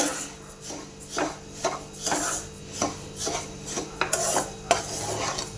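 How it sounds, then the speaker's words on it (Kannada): Rava being fried and stirred in ghee over a low flame, heard as a steady run of rhythmic scraping strokes of a spoon against the pan, close and fairly loud, with no talking. "ನೀಟಾಗಿ ತುಪ್ಪದಲ್ಲಿ ಗ್ಯಾಸು ಲೋ ಫ್ಲೇಮಲ್ಲಿ ಇಟ್ಕೊಂಡೆ ನಾವು ಇದನ್ನು ಘಮ ಬರೋವರೆಗೂ ಫ್ರೈ ಮಾಡಬೇಕಾಗುತ್ತೆ"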